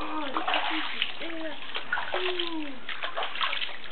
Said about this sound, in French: Il aime bien envoyer de l'eau.